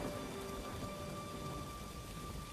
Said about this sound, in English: As the rain continued to fall